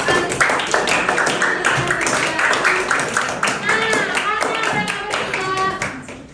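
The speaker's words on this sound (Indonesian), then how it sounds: "Oke, baru tepuk tangan untuk" A group of children in a classroom game clapping their hands together in quick, uneven bursts, close by, with high young voices chattering and calling out throughout.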